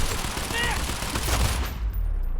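Rapid gunfire rattles in the Quantum Break video game, a dense burst of shots that cuts off abruptly into near silence.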